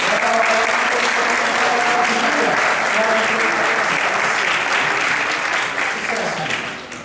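Warm, sustained applause from a large audience at a coaching and NLP seminar fills the room, a dense steady clatter of clapping that tapers slightly at the end.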